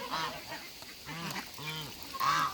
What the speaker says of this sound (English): these are the oldest goslings, who are, at this point, geese